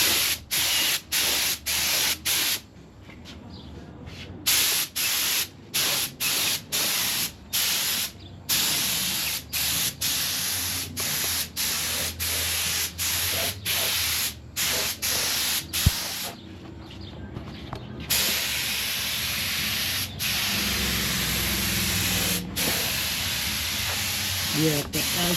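Spray gun laying automotive base coat paint on a Ford Man's Garage Project 65, sounding as loud, close, steady hissing bursts cut by short pauses, with speech at times over it.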